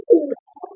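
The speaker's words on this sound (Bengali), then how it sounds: "এখানে আরো এক পিস কবুতর দেখাচ্ছে" A Pakistani high-flyer pigeon gives a short, soft low coo, one close murmuring note followed by a fainter second phrase, heard alone without any talking.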